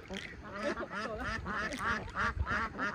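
A duck at a fish pond after heavy rain, quacking in a rapid series of nasal calls close by, with a voice speaking alongside.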